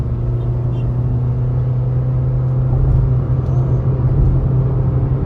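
A 2020 Honda City ZX with CVT accelerating in city traffic, a steady low engine drone and road rumble heard from inside the cabin, continuous and fairly loud with no talking.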